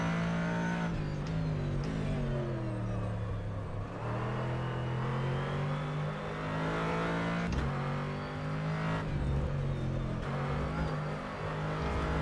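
A Corvette GT3 race car in rFactor 2 is thrown through the corners at Spa Francorchamps. Its engine drones loudly and continuously, the pitch rising and dipping with throttle and gear changes.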